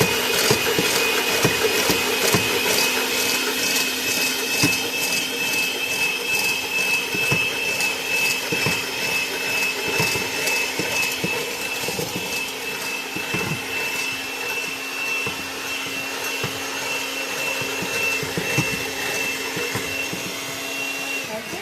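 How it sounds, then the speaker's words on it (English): An electric hand mixer whisks vanilla cake batter in a bowl until it turns foamy, giving a steady, loud motor whine with a rattling beater texture that holds constant throughout, close to the microphone and without talking. "Okay, I'm going to whisk this until it gets foamy."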